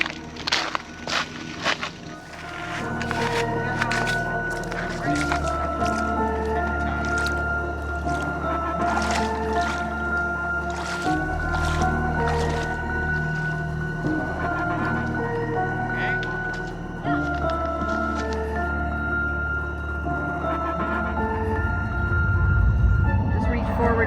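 Steady splashing and sloshing of feet wading through a jungle water crossing, continuous and close, with voices talking over it.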